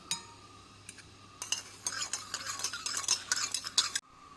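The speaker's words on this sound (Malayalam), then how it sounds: "ഒരു ടീസ്പൂൺ ഇട്ടിട്ട് ഒന്ന് നന്നായിട്ട് കലക്കി കൊടുക്കണം" A teaspoon stirs sugar in a cup for Madras filter coffee, giving a quick run of bright clinking taps against the sides that builds up close by, then stops sharply.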